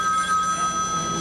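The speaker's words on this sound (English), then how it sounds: "So we have another phone call" An old telephone rings with a steady tonal bell on a public-access TV show set, held continuously and moderately loud with no talking over it.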